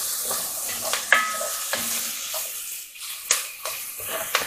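Onions and carrot for a beef and bacon pie fry in a pan with a steady soft sizzle, broken by a few stirring scrapes and clinks, close and moderately quiet.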